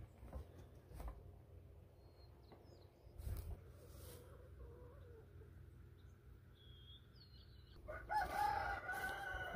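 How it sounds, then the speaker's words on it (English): A small young rooster gives a thin, puny crow at a distance in an early-morning farmyard, with a second brief crow near the end over low steady background rumble. "the puniest little crow, one of our little roosters"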